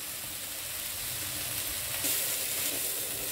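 Water at a rolling boil in a pot on the stove for cooking noodles, giving a steady, close bubbling hiss that runs unbroken throughout with no talking.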